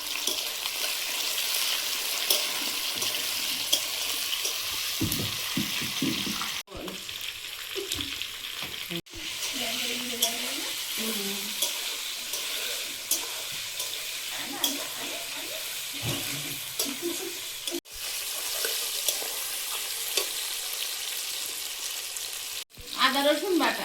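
Onions, green chillies and potatoes fry over cumin seeds in a pan in a home kitchen, giving a loud, continuous broad sizzle with a few brief dips and faint stirring clatter.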